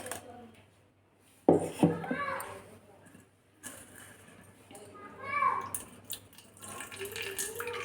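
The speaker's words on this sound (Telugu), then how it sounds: "ఒక బౌల్ తీసుకొని ఇలా వడగట్టుకోవాలి" Beetroot paste is strained into a bowl with clinking utensil and dish sounds and wet scraping bursts, heard near and intermittent while someone speaks and a voice sounds in the background.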